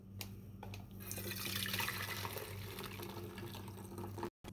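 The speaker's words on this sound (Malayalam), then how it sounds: "അപ്പോൾ നമുക്കിതൊരു സ്ട്രെയിനകത്ത് വെച്ചിട്ട് അരിച്ചെടുക്കാം." Fresh mint lime juice runs through a kitchen strainer in a soft, steady liquid trickle lasting a few seconds, fairly close and faint, with no one speaking.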